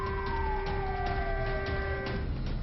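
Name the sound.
civil defense sirens in China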